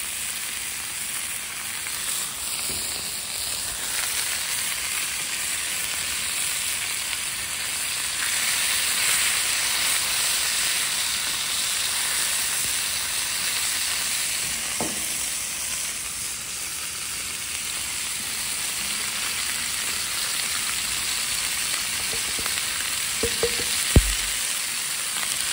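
Oil sizzling and frying on a hot Blackstone-style flat-top griddle being restored, a dense, continuous hiss that holds steady throughout, with a faint clink near the end.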